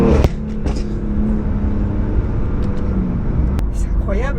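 A modified BMW M3 engine rumbles steadily throughout at close range, with people talking over it.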